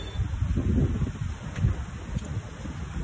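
Gusts of wind sweep through trees, leaves rustling softly in rising and falling waves, fairly quiet and with no one speaking.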